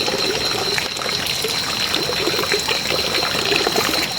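Steady trickling and pouring water filling a tilapia and catfish pond on a farm, continuous and fairly close, with a broad splashy hiss throughout and no talking.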